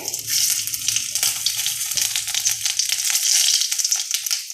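Bay leaf and whole cumin seeds sizzle and crackle steadily in hot oil for a fish-head and pointed-gourd murighonto, a bright continuous frying hiss with small pops, close and fairly loud, with no talking.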